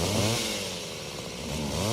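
A chainsaw running, its buzzing two-stroke engine revving up and settling, close and steady for a couple of seconds.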